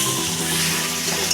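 A ground paste of green chili and capsicum fries in hot oil in a pan, a close, steady sizzle with fine crackling throughout the short moment, no voices.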